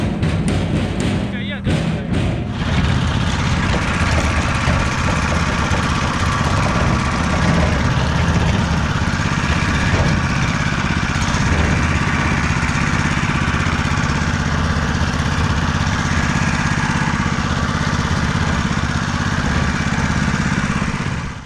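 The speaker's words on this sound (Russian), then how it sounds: "мотоблок значительно буксует, и со снегом его все равно приходится толкать" An Aurora 1400 walk-behind tractor runs in snow with a steady, loud mid-pitched engine drone that continues unbroken at close range throughout.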